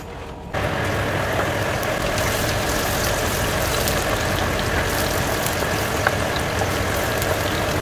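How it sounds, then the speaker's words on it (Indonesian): Onions sizzle in hot oil, a dense crackling hiss that starts abruptly after a brief pause and carries on steadily and close without any talk. "Kita mau menggoreng bawang dulu ya."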